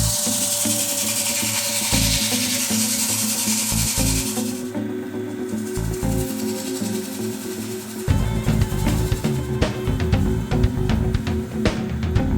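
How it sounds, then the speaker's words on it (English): Continuous abrasive rubbing and rasping as sandpaper works the hollowed interior of a turned maple burl bowl on the lathe, close and fairly loud, shifting in texture and growing harsher toward the end, with no talking. "I'm going to go ahead and sand the interior of this just like we did on the outside"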